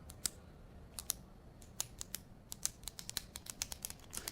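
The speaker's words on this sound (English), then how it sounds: "Samsung built in a clicking mechanism in the pen for getting it out" Repeated clicking of the S Pen's spring-loaded eject mechanism on a Samsung Galaxy Note 5, a series of sharp, close, quiet clicks in irregular quick succession, heard alone.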